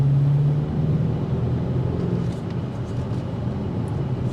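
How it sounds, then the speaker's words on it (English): A 2025 BMW X5 M Competition accelerates at full throttle, a steady engine drone with road and wind noise heard from inside the cabin, the pitch briefly dipping midway, with no talking. "now I'm gonna put it back into drive, and I'm gonna floor it."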